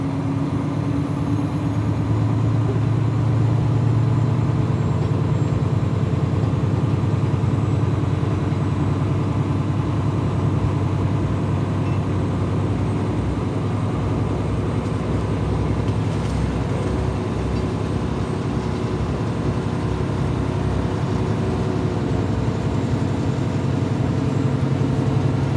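A car engine idles steadily, a close, constant low rumble running for the whole stretch without change, with no talk over it.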